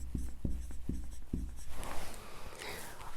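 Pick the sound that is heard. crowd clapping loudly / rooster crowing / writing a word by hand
writing a word by hand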